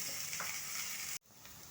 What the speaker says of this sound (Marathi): आता कांदा टाकत आहे मोहरी छान तडतडलेली आहे